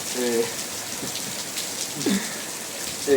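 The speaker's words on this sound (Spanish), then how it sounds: "yo creo que el sonido ya indica un poco lo que está sucediendo, además que se tiene que estar viendo la lluvia por ahí" Steady rain hisses throughout at moderate loudness, with a few brief low tonal sounds rising out of the patter.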